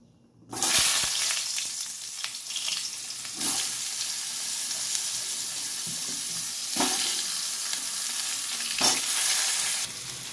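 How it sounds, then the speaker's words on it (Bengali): Eggplant pieces sizzle and crackle in hot oil in a home kitchen, a loud steady frying hiss broken by a few bursts as they are stirred. "এরপরে বেগুনগুলো ভেজে নেবো"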